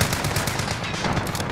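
Rapid automatic gunfire from Call of Duty: Modern Warfare, a dense, continuous burst of shots with no pauses, loud and close throughout.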